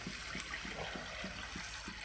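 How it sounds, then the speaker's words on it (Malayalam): Water runs steadily with a broadband gushing hiss, poured continuously into a pan for a fish curry, accompanied by a faint low rhythmic pulsing beneath. "നമുക്ക് ഇത്തിരി വെള്ളം ഇതിലേക്ക് ഒഴിച്ചു കൊടുക്കാം"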